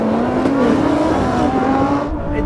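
A Nissan GT-R and other supercars, a Lamborghini Huracán and Audi R8, launch off the line in a drag race, engines roaring loud and close with a rising revving tone that holds for a couple of seconds.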